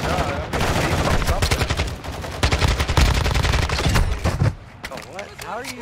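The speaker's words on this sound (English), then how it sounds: "How are you shooting me through the rail ties?" Loud, dense automatic gunfire in Call of Duty DMZ, rapid overlapping bursts close by that cut off abruptly near the end, with a voice briefly heard afterward.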